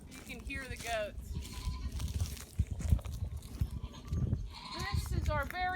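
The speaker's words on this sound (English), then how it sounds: "You can hear the goats." Goats bleat on a farm with an overlook: wavering, nasal calls come at the start and again near the end, fairly close, over rustling and handling noise outdoors.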